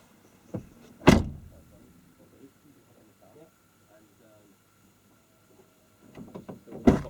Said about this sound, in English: Just shut that door for me once you've popped out.